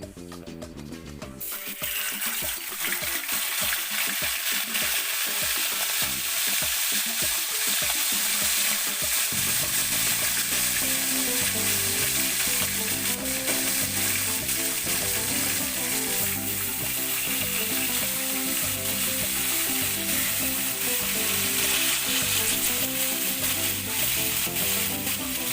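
Pork steak frying in hot oil, a loud, steady sizzle with crackling spatter that starts after a brief quiet moment and carries on for the whole stretch without any talking.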